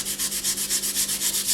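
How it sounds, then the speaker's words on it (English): Polymer clay being sanded by hand with fine-grit sandpaper, up to 1200 grit, to take off a top paint layer; steady back-and-forth rubbing strokes, about eight per second, close and fairly loud with no talk. "once you start sanding, you'll remove all of those bumps"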